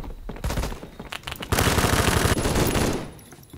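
Rapid automatic fire from an HK417 rifle in Phantom Forces: a few quick shots, then a loud, sustained burst lasting about a second and a half that tapers off.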